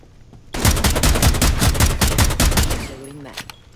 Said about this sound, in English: Why are you shooting then?